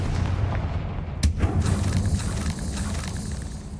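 Confringo blasting spell detonating in the video game Hogwarts Legacy: a single sharp, close blast followed by a low, rumbling boom that fades over a few seconds, heard without any talking.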